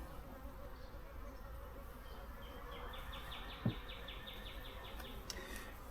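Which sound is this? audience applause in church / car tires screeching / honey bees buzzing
honey bees buzzing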